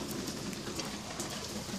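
Rain falls on a rainy day as a soft, steady patter of scattered drops, faint and even with no voices.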